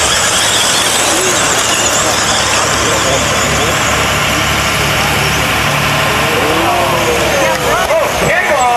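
Monster trucks launching off the start line at a 1993 championship: loud roaring engines and tyre squeal mixed with crowd noise and an announcer's voice throughout, sustained and dense.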